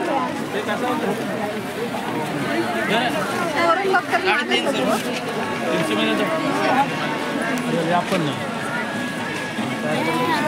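Busy crowd murmur at the Varsu Aai village yatra in Vashi, Pen taluka: a close, continuous babble of many voices with scattered louder shouts and some knocking sounds, while a voice speaks over it.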